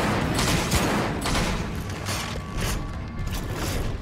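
Dense, loud rapid gunfire from the Monster Hunter 3 Ultimate video game, a near continuous volley of sharp shots mixed with mechanical clatter, with no talk over it.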